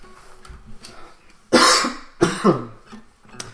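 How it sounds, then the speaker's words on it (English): A man coughs twice on a comedy podcast, two loud harsh close bursts about a second apart, followed by a faint throat clear in a quiet room. "That cough is due to me yapping too much."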